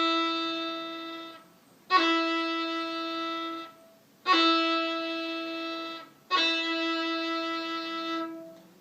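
Four bowed violin notes, each starting with a quick grace-note flick from a higher second-finger note into a sustained tone, evenly spaced and played alone.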